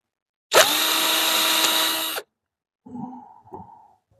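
Power drill with the clutch set to its lowest setting, a loud close whine for about two seconds that cuts off, followed by fainter clicking and rattling.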